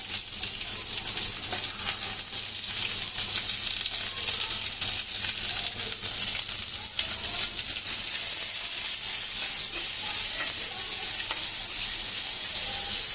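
Cashews, cumin and onion fry in a pan with a steady, bright sizzling hiss that runs unbroken and fairly loud throughout, with no voices.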